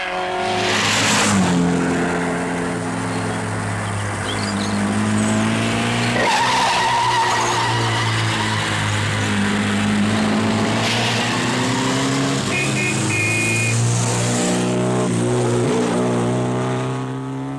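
Rally cars, including a Citroën, climbing the Col d'Espigulier mountain pass in the 1958 Coupe des Alpes, with loud engines revving and shifting pitch continuously, some tyre squeal and no talk.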